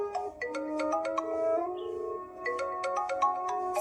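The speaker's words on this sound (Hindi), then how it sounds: "फोन तो उठा ले।" A mobile phone ringtone plays a bright, repeating electronic melody of quick chiming notes, clear and steady, in a dubbed South Indian action film.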